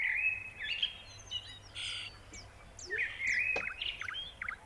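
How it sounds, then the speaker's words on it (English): Birds sing at the start of a long podcast recording: varied chirps, trills and whistled calls from several birds at moderate loudness, repeating through the whole stretch over a faint low background hum, with no talking. "you can just hear the birds"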